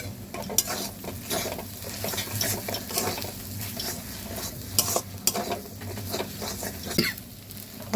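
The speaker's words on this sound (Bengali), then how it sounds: "এবার লঙ্কার এই তেলটা আমি এর মধ্যে ঢেলে দেব।" Fried chilli mustard oil is poured into a green pea mash and mixed in, heard as busy scraping and clinking of a utensil against the bowl over a faint sizzle, with no speech.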